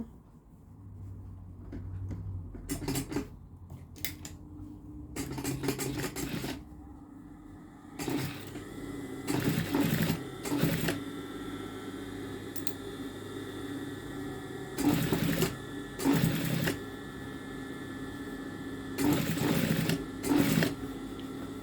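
Sewing machine topstitching along a seam on a garment, the seam allowance pressed toward the back piece, running in repeated short bursts of steady stitching with pauses between, fairly close and alone without talk.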